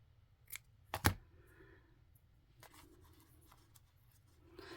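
Scissors snipping paper and lace scraps for craft ephemera: a few quiet, close, crisp cuts, with two sharp snips close together near the start and softer rustling after.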